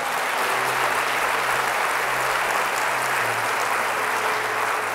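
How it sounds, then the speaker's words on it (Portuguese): A church congregation claps together for God during a Sunday service, a dense, continuous wash of applause that stays even and fairly loud throughout, with no voices rising above it. "uma salva de palmas ao nosso Deus."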